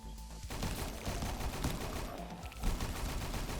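Hundred-round machine gun in the Roblox game Last Run, firing a continuous rapid stream of loud shots without pause.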